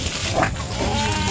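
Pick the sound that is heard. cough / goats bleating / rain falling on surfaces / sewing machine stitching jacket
goats bleating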